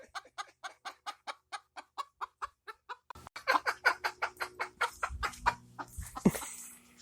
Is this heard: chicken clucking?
yes